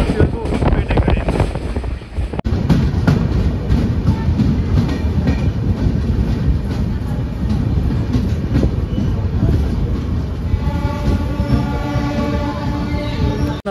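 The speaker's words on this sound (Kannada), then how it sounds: "ನಮ್ಮ ಈ ಜನಶತಾಬ್ದಿ ಎಕ್ಸ್ಪ್ರೆಸ್ ಟ್ರೈನ್ ನಂಬರ್ 12080 ಸದ್ಯಕ್ಕೆ ತಲುಪಿಬಿಟ್ಟಿದೆ ದಾವಣಗೆರೆ ರೈಲ್ವೆ ಸ್ಟೇಷನ್ಗೆ" The Hubballi–Bengaluru Jan Shatabdi Express, train 12080, arrives at Davangere railway station. A steady rumbling ride noise runs throughout, with rhythmic wheel clatter and wind buffeting, heard from on board.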